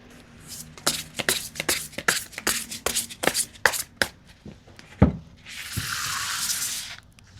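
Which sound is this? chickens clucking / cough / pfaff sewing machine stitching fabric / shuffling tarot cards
shuffling tarot cards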